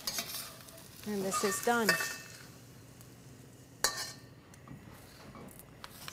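Eggs stirred and frying in a hot wok for pad thai, a steady sizzle under scraping utensil strokes, with a brief spoken line and a sharp clink near the middle.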